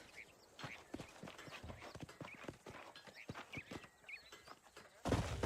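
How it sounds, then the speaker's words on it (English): Horse hooves clip-clop in Red Dead Redemption in a steady run of hoofbeats, moderately close, with a louder burst near the end and no talk over them. "These are fine horses."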